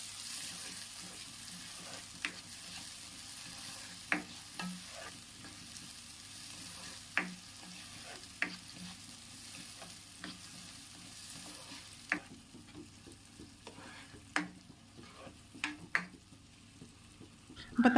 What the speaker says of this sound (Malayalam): ഇനി നമുക്ക് അരിഞ്ഞ് വെച്ചാൽ തക്കാളിയും കൂടെ ചേർത്ത് വീണ്ടും നല്ലതുപോലെ ഒന്ന് വഴറ്റിയെടുക്കണം